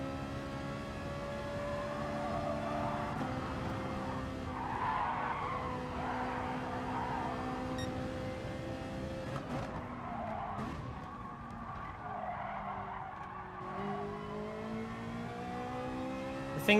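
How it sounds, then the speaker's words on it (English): A Ferrari race car in the GT Sport video game, its engine droning loud and steady while the tires skid and squeal, with pitch shifts as it brakes and accelerates through corners, and no talking. "We're driving the Ferrari."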